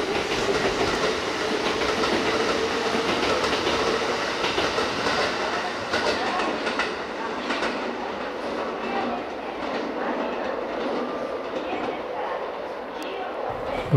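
Kintetsu express train 6524 for Osaka-Uehommachi rolls through Tsuruhashi Station with a steady, loud rumble and rhythmic clickety-clack, fading slightly toward the end, with indistinct voices in the background.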